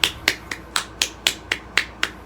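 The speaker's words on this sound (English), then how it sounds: "I'm giving myself claps." Nine sharp hand claps at an even, brisk pace, close and crisp, each with a short decay, alone with no talking.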